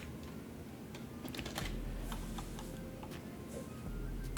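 Keystrokes on a computer keyboard as a password is typed into a text file, a steady run of light clicks at close range with no talking.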